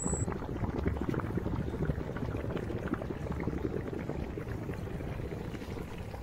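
Quicklime reacting with water in a drum: steady, vigorous bubbling and churning of boiling liquid, loud and continuous throughout with a dense low rumble, no voices.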